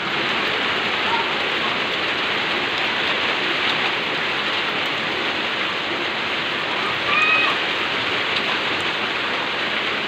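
Steady, heavy afternoon rain hisses down continuously on surfaces in Pinugay, Baras, Rizal, a dense even wash of drops with no pauses.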